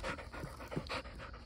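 A dog pants close by in steady, quick breaths. The sound is soft and continuous, and there is no talking over it.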